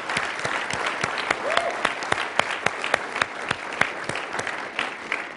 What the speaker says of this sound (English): I want you to give a round of applause for all of our panelists.